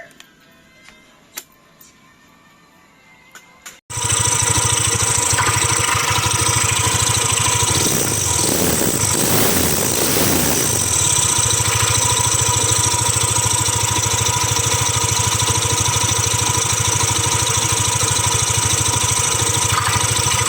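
A Yamaha Aerox scooter with an Error 12 fault starts up after a few seconds of quiet handling noises, then idles steadily and loudly up close with a constant mechanical drone.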